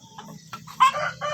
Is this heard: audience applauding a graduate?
no